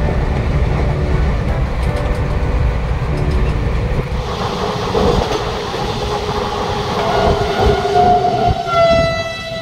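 Black Diamond Express train heard from inside a carriage: a continuous rumbling roll with rhythmic clatter of wheels on track, steady and close throughout, with faint high tones near the end.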